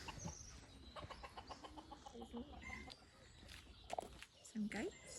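Chickens cluck softly and intermittently on a woodland walk, close by and mixed with footsteps and people chatting, with a couple of louder squawks near the end.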